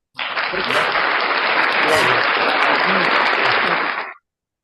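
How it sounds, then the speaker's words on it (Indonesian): Loud, dense applause fills about four seconds, steady and close from start to finish in an online meeting setting, then cuts off abruptly. "Dahsyat, tepuk tangannya terlalu keras"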